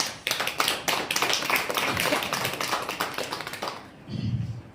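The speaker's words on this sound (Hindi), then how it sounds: "एक अच्छी ताली यीशु के लिए बजा दिए।" A church congregation claps for Jesus in a lively, sustained round of many hands, dense and fairly close, before it fades out near the end and a low voice is briefly heard.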